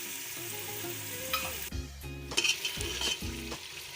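Masala with chopped ginger fries in ghee for a dhaba-style lauki chana dal, a steady sizzle broken by scraping spoon strokes and light clinks against the pan.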